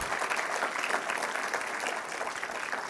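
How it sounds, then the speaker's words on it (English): At a tech conference session, a thin audience gives a brief round of clapping after a demo works, a steady, moderately quiet patter of hands with no talking over it. "Thank you for that smattering of applause."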